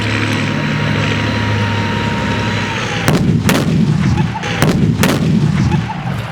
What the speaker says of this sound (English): Explosions, you feel the heat coming off them, those barrels being sent flying into the air.